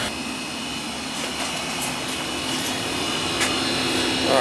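Gas furnace that was not heating, now firing up with its blower fan motor running after a new capacitor, giving a steady loud whooshing roar that builds slightly, with no talking.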